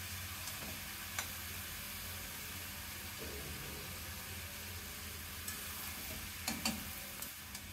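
Chickpeas and potatoes fry in a pan with a steady low sizzle, while a spoon scrapes and stirs now and then, a few sharper clinks standing out near the end.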